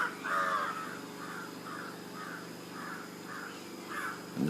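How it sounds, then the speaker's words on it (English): Crows cawing in Ella, Sri Lanka, about nine rasping calls in a steady rhythm over a constant low hum from a generator close by; no talk. "In the foreground there's a generator and the birds."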